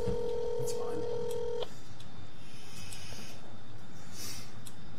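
A telephone tone sounds steadily for a little over a second and a half, then stops, leaving quiet room noise with faint voices in the background.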